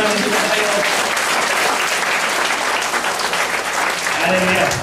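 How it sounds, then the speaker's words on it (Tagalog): A church congregation claps in sustained, lively applause during a sermon, a dense wash of many hands, with voices talking and calling out over it. "Bigyan ba na palakpak si Lord"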